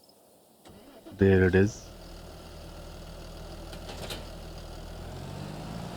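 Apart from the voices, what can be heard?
Fendt tractor engine starting and idling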